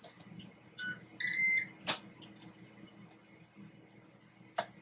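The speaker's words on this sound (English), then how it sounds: "So the oven just beeped." A kitchen oven timer gives a few short, clear electronic beeps, fairly faint against quiet room background, with a small clatter afterward.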